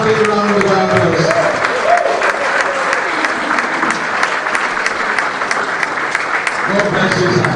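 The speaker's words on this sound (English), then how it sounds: "Can we give him a greater, more resounding round of applause?" Sustained loud applause from a large audience at a youth mentoring masterclass welcoming Umo Eno, steady dense clapping for the full length with a few voices mixed in.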